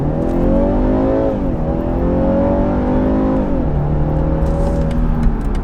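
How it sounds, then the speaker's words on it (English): A 2020 BMW 330i with a four-cylinder engine accelerates hard, its loud engine note climbing steadily in pitch with a brief dip at a gear change before rising again, close and continuous without talk. "This car actually does accelerate very quickly."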